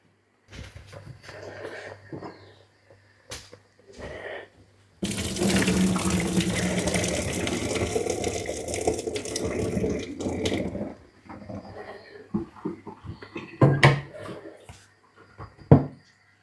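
Water from a pot of cooked tomatoes pours out in a strong, steady splashing stream for about six seconds, framed by clinks and handling clatter of the pot before and after, close and with no talk.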